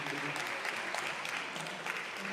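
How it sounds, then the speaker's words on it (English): Audience members at a women's policy luncheon applaud the panelists, with soft, steady clapping spread through the room at a moderate distance. "Give the youngest panelists a round of applause."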